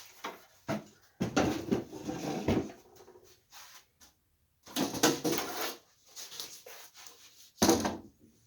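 The bottom drawer of an old wooden armoire, falling apart, is handled close up: a series of dry wooden knocks, scrapes and rattles in irregular bursts separated by short silences.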